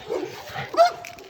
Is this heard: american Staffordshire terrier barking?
yes